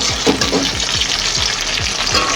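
Fried vegetables with bitter gourd leaves are stirred in a pan, with a loud, continuous close sizzle and repeated scraping strokes of a spatula in an even rhythm.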